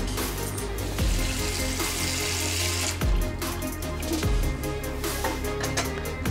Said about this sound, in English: and then you're going to put some water